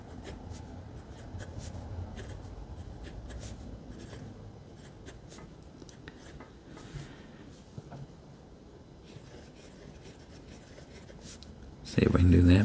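Caliarts Ego piston-filled fountain pen scratching softly across Rhodia paper, a faint continuous rasp of strokes with small pauses, close and quiet, ending in a louder bump.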